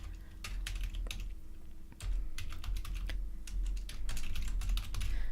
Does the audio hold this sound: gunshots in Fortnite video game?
no